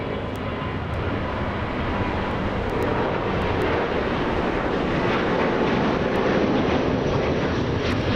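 Delta Airbus A330neo in Team USA livery on its takeoff roll at Los Angeles International Airport, a steady, broad jet roar holding loud and constant throughout with no voices.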